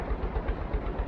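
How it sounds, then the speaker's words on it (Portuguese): A loud, muffled engine rumbles steadily, deep and throbbing like it is shaking a house, heard alone with no voices over it. "todos ouvem novamente o forte som abafado de motor que fazia a casa trepidar"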